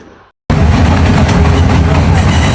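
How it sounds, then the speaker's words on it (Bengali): A train arrives near Natore, its loud, continuous rumble and rattle cutting in abruptly after a brief quiet moment and holding steady. "তখনই দেখি ট্রেন চলে আসছে।"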